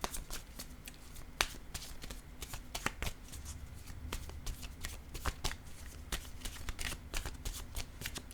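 Oracle cards shuffled by hand at close range, a continuous rapid riffle of soft papery flicks and taps with irregular sharper snaps.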